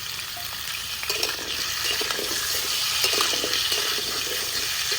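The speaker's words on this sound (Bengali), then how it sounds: "এবার সবজিগুলো একটু ভেজে নিই" Cauliflower, sweet potato, potato and carrot frying in a pan in a village kitchen, a steady close sizzle with scattered stirring scrapes running throughout, no talking.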